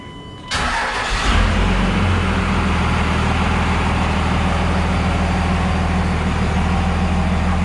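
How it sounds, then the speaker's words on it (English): A 24v Cummins diesel truck engine with 229,000 miles cranks and catches about half a second in, then settles into a steady, loud, rumbling idle that runs on alone with no talking. "go ahead and start the truck, let it circulate a little bit"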